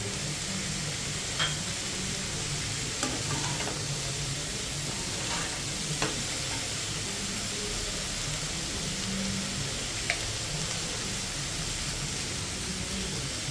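Sliced onions and tomatoes sizzling in a pan for vegetable soup, a steady hiss of frying broken by a few clicks of stirring, close up with no voices.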